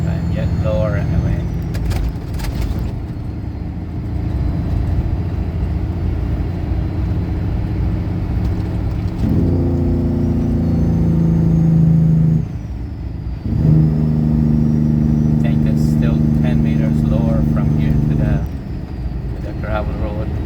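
A car drives along a gravel road with a low, steady rumble of tires and engine. Its engine tone rises and holds in two stretches, loud and close throughout.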